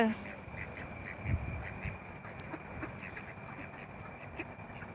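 Domestic ducks quack in short, scattered calls at moderate distance, mixed with someone talking over a low outdoor rumble.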